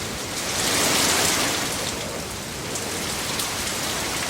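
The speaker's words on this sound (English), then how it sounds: "the rain came down like waterfalls" Heavy rain pouring down as a storybook sound effect, a loud, steady hiss of downpour that swells briefly and then settles into a constant roar.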